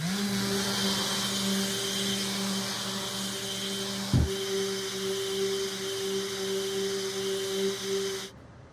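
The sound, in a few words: power tool cutting a wooden box in half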